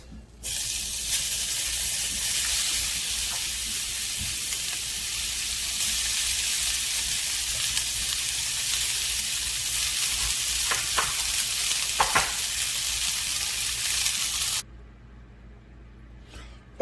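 Onions fry in a hot, oiled pan with a loud, even sizzle and hiss, with occasional stirring scrapes, before the sound cuts off abruptly near the end.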